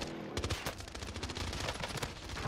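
Gunfire in the Warzone video game, including sniper shots, with a rapid burst of sharp loud cracks following one another over continuous game noise.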